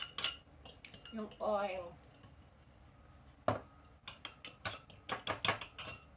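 Egg whisked in a bowl with an improvised utensil in place of a beater: a quick burst of rapid clinking strokes, then scattered sharper taps and clatters of metal against the bowl, close and fairly quiet, with brief talk.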